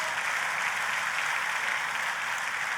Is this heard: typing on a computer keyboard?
no